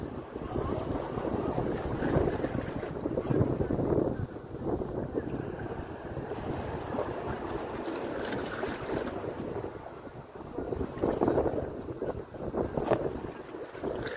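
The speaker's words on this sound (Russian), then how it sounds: "Яхта сюда приплыла." Engine and water noise from a yacht rumbles steadily alongside gusty wind buffeting the microphone, with waves washing in the background and no talking.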